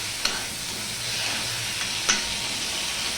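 Ginger paste and chopped tomato fry in a pan over a medium gas flame, giving a steady close sizzle with a couple of faint clicks of stirring.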